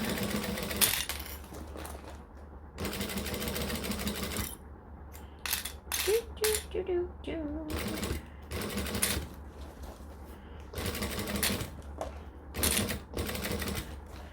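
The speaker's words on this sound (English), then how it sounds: "So I'm just sewing at the 1/2 inch seam allowance" A sewing machine runs in short stop-start bursts, stitching fabric at a half-inch seam allowance, its rapid mechanical clatter pausing between runs with quieter handling sounds in the gaps.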